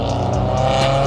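A prototype race car running its first laps on a circuit, engine droning loud and steady with a dense harmonic tone throughout, close and continuous.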